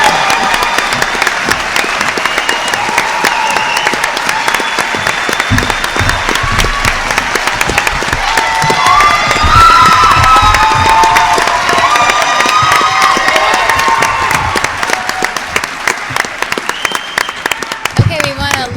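Audience at a town candidate debate breaks into loud sustained applause with cheering and whoops, a crowd roar swelling midway, then thinning as clapping fades and voices talk.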